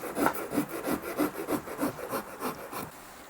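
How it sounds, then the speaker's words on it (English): Rhythmic back-and-forth strokes of a Shinto rasp carving maple on a guitar body, about ten even scraping passes close up that stop near the end, with no talking. "we're going to take the Shinto and just start carving some of this wood away"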